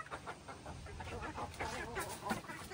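Rhode Island chickens on a farm cluck and murmur softly nearby, with scattered short calls over a steady noisy background.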